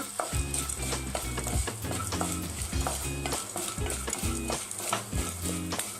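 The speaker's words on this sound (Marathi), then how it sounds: "डिंक घातल्यावर आपल्याला कंटिन्यू हलवत राहायचं आहे" Edible gum (dink) frying in a pan for methi ladoo, a continuous close sizzle with rhythmic scraping and knocking as a spoon keeps stirring, no talking.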